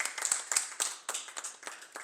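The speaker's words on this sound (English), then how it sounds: "Let's give her a round of applause." A small group claps for a graduating senior during a school newscast, a short burst of distinct, fairly close individual handclaps with uneven rhythm.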